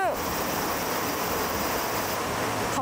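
A babbling river stream rushes in a steady, close, broadband wash of water, continuous and even with no breaks.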